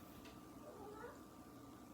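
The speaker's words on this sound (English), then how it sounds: "My kitty's crying." A house cat cries with a short, faint meow, heard quietly against a low background hum indoors.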